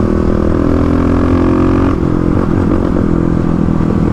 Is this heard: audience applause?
no